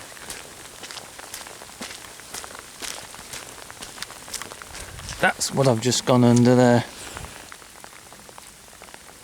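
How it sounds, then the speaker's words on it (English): Steady rain patters on a nearby surface, with a person speaking briefly over it midway. "As soon as we come out, you can hear the rain on me."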